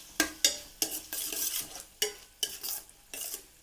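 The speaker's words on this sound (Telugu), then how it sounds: "ఒక స్పూన్ అల్లం వెల్లుల్లి పేస్ట్ వేసుకోవాలి." Ginger garlic paste cooking on low heat in a pan, with a close sizzle and a series of sharp spoon scrapes and clinks against the metal, about eight strokes in an uneven rhythm, no voices.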